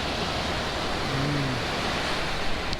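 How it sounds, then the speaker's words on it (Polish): Sea waves wash onto a sandy beach as a broad, steady roar of surf, loud and continuous throughout with no distinct breaks or voices. "tak głośno tych fal"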